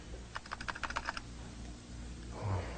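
Rapid keystrokes clatter on a computer keyboard in a short burst of about a dozen clicks, then stop, leaving a low hum and a faint thump.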